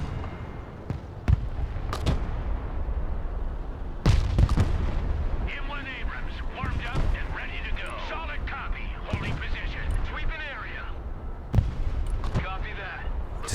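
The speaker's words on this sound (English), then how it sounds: "Keep that smoke barrage up." An artillery barrage fires smoke rounds for Abrams tanks in the Broken Arrow war game, with repeated heavy booms and sharp impacts scattered across the battle while voices talk over the din.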